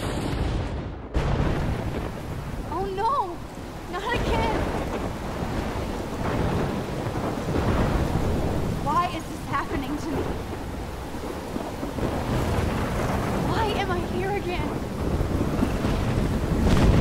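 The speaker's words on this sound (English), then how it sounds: "Storm is coming." Thunderstorm in the Life is Strange video game: heavy rolling thunder and steady rain with gusting wind, a loud sustained roar with repeated rumbles throughout.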